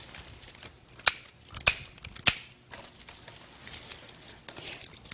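Sharp scissor snips trim flower arrangement materials, three crisp cuts in quick succession followed by softer rustling and handling of stems, close and quiet with no talk.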